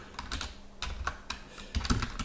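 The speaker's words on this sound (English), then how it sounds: "I'll just type in here" Close, clicky typing on a computer keyboard in short irregular bursts of keystrokes, with no talking.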